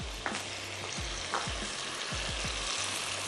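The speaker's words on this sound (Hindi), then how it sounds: "भून लेते हैं अपना ये मसाला" Masala with spinach, beef stock and spaghetti frying in a hot pan, a steady close sizzle with repeated low thumps and scrapes from stirring throughout.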